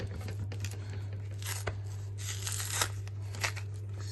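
Skin is peeled off a firm green plantain in a kitchen, giving a run of close, soft tearing and crinkling strips over a steady low hum.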